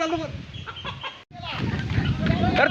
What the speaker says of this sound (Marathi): पकडा कोंबडा ये